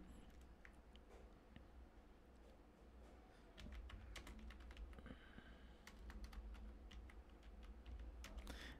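Quiet, rapid keystrokes clatter on a computer keyboard in irregular bursts, with some louder key taps over a low room hum.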